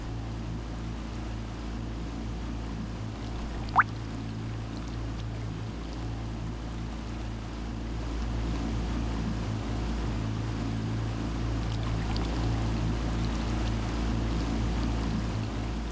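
Steady low motorboat engine drone on the Tempisque River in Costa Rica, a continuous hum with faint water wash, one brief sharp knock near the start and a slightly louder stretch later, with no voices.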